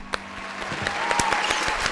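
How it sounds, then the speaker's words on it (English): A small group applauds and cheers briefly, with scattered close claps building into a short burst of clapping. "Round of applause for Vinny."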